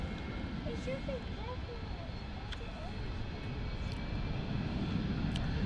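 A Wizz Air Airbus A321 jet taking off at London Luton Airport, a steady, distant engine roar rumbling continuously with faint bird calls in the background.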